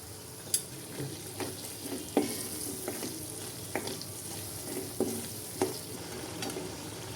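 Paneer masala bhurji with Kashmiri red chilli powder frying as oil separates, a soft constant sizzle broken by sharp spoon scrapes and taps against the pan roughly every second, with no voices.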